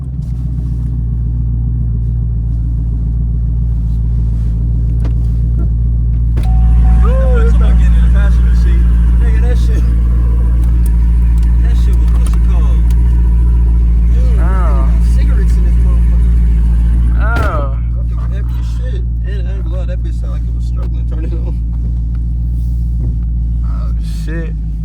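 A Chevrolet Camaro SS car drives on a test drive, its engine a loud, steady low drone that swells as it accelerates mid-drive, with people talking inside the car over the engine.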